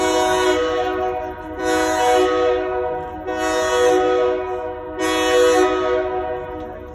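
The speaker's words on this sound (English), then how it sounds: "It's still pretty good horn show." Durango & Silverton steam locomotive 107 sounding its horn four times in long, loud blasts with short gaps, heard from a passenger train rolling through the Animas Canyon, with a steady rumble of the moving train underneath.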